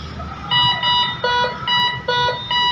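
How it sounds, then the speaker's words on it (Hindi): An MD 8260 digital metal detector scanning silver gives a loud, repeating electronic beep in short bursts, each a steady two-toned tone with brief gaps between, heard alone with no talk. "ये सिल्वर के ऊपर साउंड कर रहा है।"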